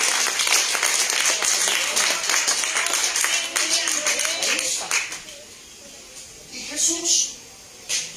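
Congregation applauding in church, dense clapping that thins out midway, with voices talking over it and a few scattered louder bursts near the end.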